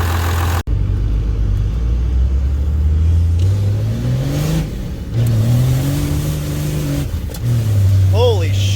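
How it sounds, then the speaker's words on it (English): A 12-valve diesel truck with a 5-inch exhaust accelerates hard and spins all four rear tires. The engine roar is loud and close, rising through several pitch sweeps as it revs and shifts, with voices over it near the end. "that just hazed all 4 back tires."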